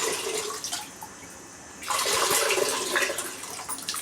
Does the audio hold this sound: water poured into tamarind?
yes